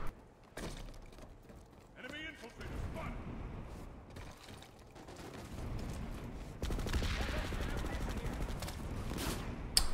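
Sniper fire in a first-person shooter game arrives as a few faint, distant cracks and rattles amid background game noise, with a player talking over it.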